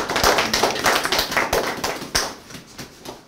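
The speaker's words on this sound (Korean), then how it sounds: "이사님 나오셨습니다. 박수." Audience applause greets a director's entrance at an art exhibition opening, scattered hand claps close by that taper off toward the end.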